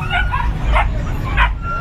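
A guard dog gives a few short, close barks, roughly three bursts spaced over two seconds, over steady background noise and low rumble.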